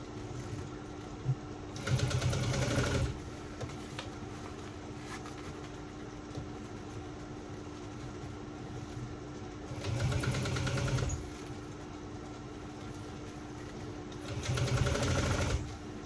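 Short bursts of a sewing machine stitching a shoulder bag, three separate runs of a second or so each over a steady low room hum, fairly close but modest in volume.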